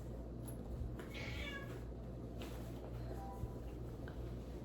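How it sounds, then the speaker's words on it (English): A house cat meows faintly a couple of times, thin distant cries from another room over a low steady background hum, with no talking. "If you heard a cat meow"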